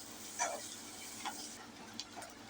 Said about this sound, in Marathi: तो कांदा आपण फ्राय करून घेऊया